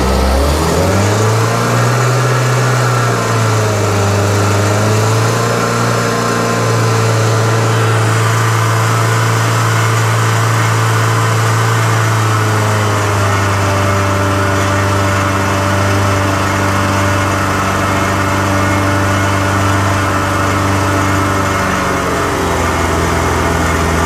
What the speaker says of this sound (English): We'll rev it up a little bit and then see if she'll idle for us.